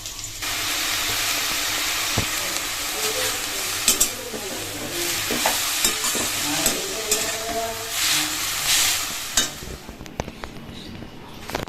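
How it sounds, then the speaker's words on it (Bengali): Dried red chili and garlic tempering in hot oil, a loud hissing sputter close by with occasional clatters of stirring, easing toward the end. "রসুন দিয়ে দিলাম, রসুন আর শুকনো লঙ্কা ফোড়ন দিয়ে হবে হচ্ছে লাল শাক।"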